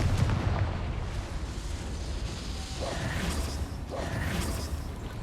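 A Confringo fire spell in Hogwarts Legacy detonates with deep booming blasts over a constant low rumble, two sharper bursts standing out a second apart amid the continuous battle din.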